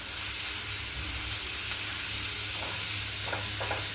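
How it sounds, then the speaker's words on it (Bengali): Bottle gourd fries in ghee in a pan while lauki kheer is being made. A steady, close sizzle runs throughout, with a few faint clicks of stirring near the end. "লাউটা একটু ভাজবো।"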